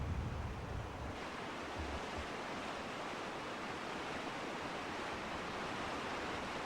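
A river flowing beneath a bridge beside a stables and farm, a steady broad rush of water that fills the whole clip at an even, moderate level with no voices.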